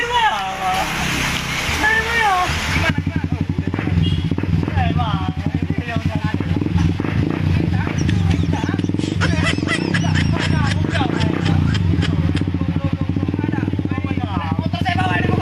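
A motorcycle engine idles and revs nearby, its uneven rumble rising and falling while people talk over it.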